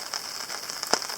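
Rain pattering steadily on a surface at a wilderness canoe-country campsite in the Boundary Waters, with scattered louder drops standing out against the soft continuous hiss.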